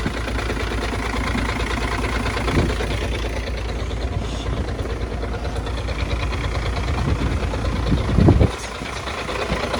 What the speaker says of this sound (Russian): Сейчас как-то двигатель не так шумит, потому что выхлопная система сейчас исправна.